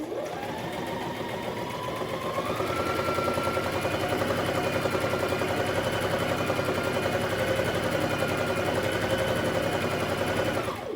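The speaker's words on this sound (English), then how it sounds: "Then you sew your straight line." A basic domestic sewing machine running a straight line of stitches, a steady fast mechanical chatter that holds continuously at even speed from start to finish.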